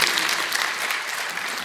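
An audience at a Hindi comic poetry recital claps in a brief, steady burst of applause, fairly soft and even from start to finish.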